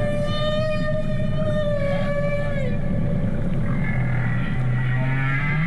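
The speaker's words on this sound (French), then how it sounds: "Ce chant si particulier des baleines à bosse" Humpback whale song: long sliding tonal moans and rising and falling whistles, loud and clear, layered over a low rumbling underwater background, with a few deeper pulsed calls toward the end.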